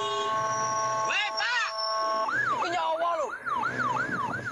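Ambulance siren wailing loudly and close by, a rising-falling yelp over steady traffic noise, with two short honks of the horn breaking in near the start; it carries on through the whole stretch near Popongan, Karanganyar.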